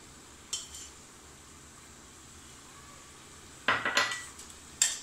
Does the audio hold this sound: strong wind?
no